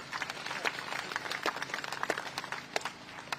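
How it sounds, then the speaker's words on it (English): Scattered, fairly faint applause from an audience at a Commonwealth Day memorial ceremony in London, with irregular claps spread over a few seconds. "I think a huge round of applause to the speakers."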